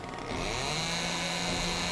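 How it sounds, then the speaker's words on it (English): A chainsaw in the Super Robot Wars Z3 video game fires up with a quick rise and then runs on as a dense, steady, loud buzzing roar. "chainsaw fires up."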